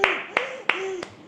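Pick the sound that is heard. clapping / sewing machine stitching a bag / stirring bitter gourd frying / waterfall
clapping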